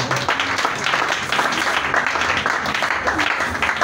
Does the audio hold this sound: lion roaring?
no